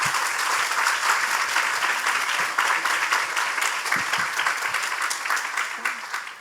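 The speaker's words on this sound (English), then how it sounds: "So I think everyone should applaud themselves." A room of conference attendees at a youth leaders' dialogue claps steadily and loudly, with dense, sustained applause that holds throughout and fades slightly at the end.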